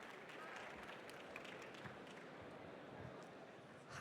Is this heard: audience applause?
yes